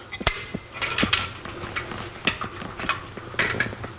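Bolts being tightened by hand on a Hurst Quarter Stick shifter bracket, fitted to a TH400 transmission in a 1949 Chevrolet: sharp metallic clicks and taps at an irregular pace, close by, with no talking.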